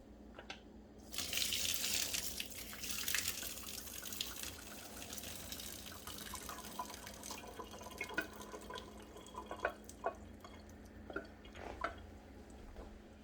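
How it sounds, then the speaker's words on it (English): Cooked wheat berries are drained, with running water gushing into a sink at first, then trickles and drips continuing quietly; no one speaks. "So I'm going to get these drained."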